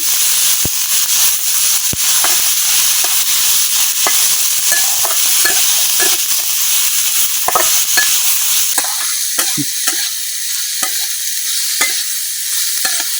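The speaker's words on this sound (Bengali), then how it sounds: "এখন লাগাই চালাই পেঁয়াজ রসুন কাঁচামরিচ সব কিছু ভাজা নেন" Onion, garlic and green chilli frying together, a loud, dense sizzle with repeated scraping strokes of stirring, close up and continuous, easing slightly toward the end.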